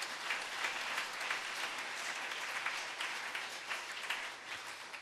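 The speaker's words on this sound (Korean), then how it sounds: "우리 박수로 하나님께 영광 드리겠습니다" A church congregation claps together during a Sunday evening worship service, producing dense, steady applause that holds for several seconds with no voices rising above it.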